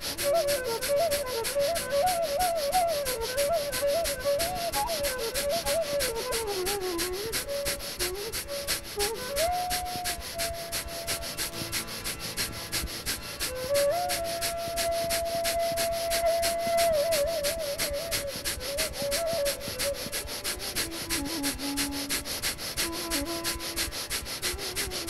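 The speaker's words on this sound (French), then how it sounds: "voilà, respiration de feu, simple et efficace" Breath of fire, a yoga breathing exercise, runs as a long series of rapid, forceful, rhythmic exhalations through the nose, close and continuous, with a faint melody playing softly underneath.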